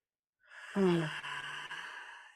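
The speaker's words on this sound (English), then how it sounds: "So I invite you to take a nice slow breath if you can." A single slow, deep breath drawn in and let out as a long sigh, close and clear against an otherwise quiet background, with no talk.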